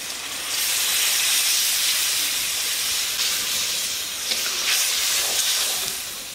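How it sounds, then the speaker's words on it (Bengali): Full coconut milk poured into a hot pan over fried spices for a pointed gourd curry sets off a loud, steady sizzling hiss that rises, holds for several seconds and then fades slightly, with no talking. "এবার আমি একটা নারকেলের পুরো দুধটা ঢেলে দিচ্ছি"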